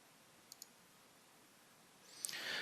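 Two quick, quiet computer mouse clicks in an AutoCAD 2021 file dialog, a short pause between them, followed by a faint rising hiss.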